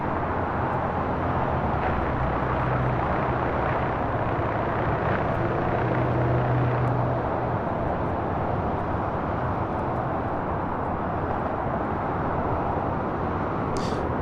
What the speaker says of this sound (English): Delta Airlines flight 392 on this A320 now crossing over